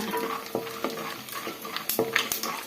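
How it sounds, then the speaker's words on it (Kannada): Peanuts fry in oil over a low flame while a spoon stirs them. Soft sizzling runs under several sharp metallic clinks and scrapes against the pan, spaced irregularly and heard close up. "ಕಡಲೆಬೀಜನ ಕಡಿಮೆ ಉರಿಯಲ್ಲಿ ಸ್ವಲ್ಪ ಫ್ರೈ ಮಾಡ್ಕೊಳ್ಳೋಣ."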